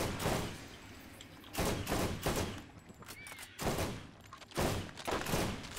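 Gunfire in the video game Borderlands, a boss fight: dense bursts of shots and thumps come in waves, loud and continuous, with brief lulls between volleys and no talk.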